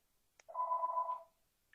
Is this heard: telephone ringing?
yes